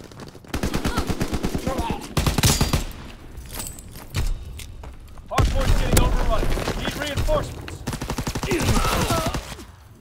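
PPSh submachine gun fire in Call of Duty WW2 ranked multiplayer, rapid rattling automatic bursts mixed with other gunfire and game effects, with a player talking over the action.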